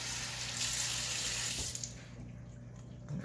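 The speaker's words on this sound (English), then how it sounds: "please always run your eggs under water." Tap water runs steadily into a sink over boiled eggs being peeled for egg salad, a continuous close splashing stream that eases slightly partway through, with no talking.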